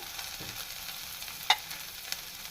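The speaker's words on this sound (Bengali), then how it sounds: "আর দিব পরিমাণ মতো লবণ দিয়ে খুব সামান্য একটু জল দিয়ে মশলাটা একটু কষিয়ে নিব" Spice powders frying and being stirred with small new potatoes in a pan, a faint steady sizzle with light scraping strokes and one sharp clink midway, close and quiet, no talking.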